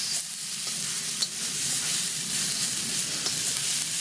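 Onions and carrots sauté in a pan after the rabbit has been removed, giving a continuous bright sizzle with light stirring, close and steady throughout.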